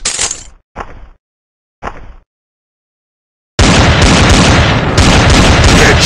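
Gunshots in the blocky shooter video game Block Gun: three sharp cracks spaced apart, then after a silent pause a sustained loud burst of dense firing.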